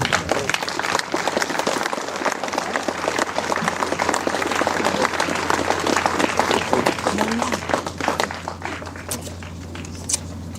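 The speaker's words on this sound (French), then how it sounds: "Je pense que vous pouvez l'applaudir." An audience at a commemoration ceremony in Le Coudray-Montceaux claps steadily as a city medal is presented, a close, crackling mass of applause with a low hum beneath and brief voices near the end.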